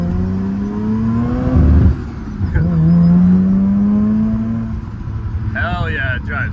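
Mazda RX7 FC being driven, its rotary engine droning and rising in pitch as it pulls, with a brief rumbling burst and a voice talking over the engine near the end.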